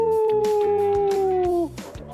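A person imitating a Mexican wolf howl, holding one long, steady wavering note for about a second and a half before breaking off into muffled background noise.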